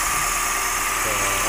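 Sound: car engine idling while warming up

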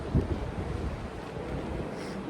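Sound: sea waves and wind at the coast

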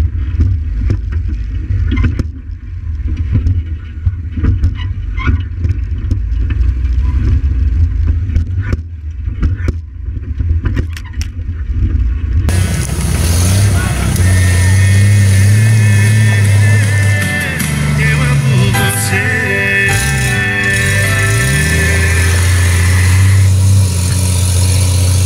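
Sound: motor running

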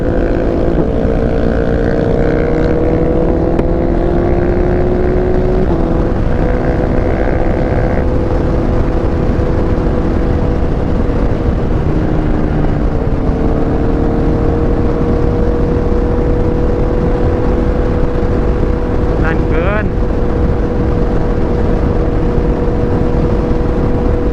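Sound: Yamaha MT-09 motorcycle loud exhaust revving

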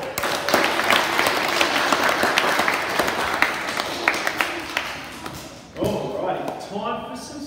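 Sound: school assembly applause

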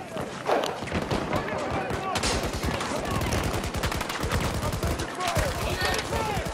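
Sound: gunfire from Battlefield 2042 video game

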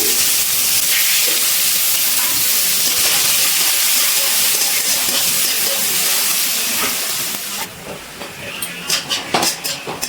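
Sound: chopped onions frying in oil

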